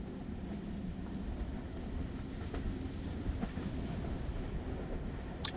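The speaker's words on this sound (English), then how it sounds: "Train." A train passes in the video game Tokyo Dark, a steady broadband rumble with faint wheel clatter and a few sharp clicks, fairly close and continuous with no talking.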